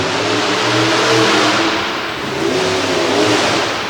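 A monster truck engine revs at a Monsters of Destruction racing event in Corbin, a loud, steady mid-pitched roar that swells and eases twice, heard from a distance with no talk.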